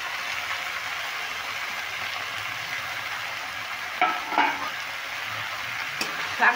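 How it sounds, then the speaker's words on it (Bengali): Pea greens stirred with onion stalks in a frying pan, a constant sizzle broken by a few scraping stirs of the spatula near the end, close and without talk. "শাকটাও খুব ভালো করে নেড়ে নিচ্ছি পেঁয়াজের কলির সঙ্গে।"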